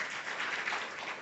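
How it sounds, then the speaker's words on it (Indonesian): A church congregation applauding during an online worship service, a short burst of dense clapping at moderate, fairly steady loudness with no talk over it. "Berikan tepuk tangan meriah buat Tuhan kita"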